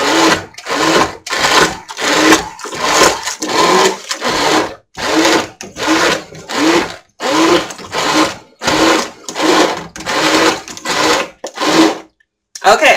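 A stick blender emulsifying monkey butter whirs in short repeated bursts, switching on and off in a steady rhythm, loud and close.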